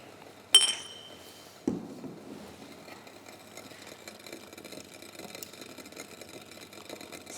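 Glass boiling tube holding ethanol set into a glass beaker of water, one bright clink followed by a softer knock, then a low steady bubbling hum.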